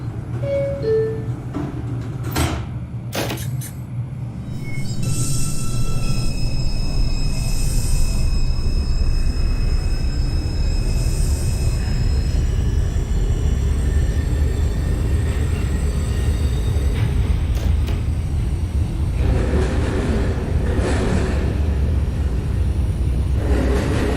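NYC Subway R142 train on the 2 line in the OpenBVE simulator, a steady low rumble of the running train with tonal motor whines and brief clanks, loud and continuous after a quieter start.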